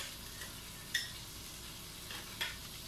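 Burger meat frying in its own rendered fat gives off a steady, close sizzling hiss, with two faint metallic clicks from a pan or utensil.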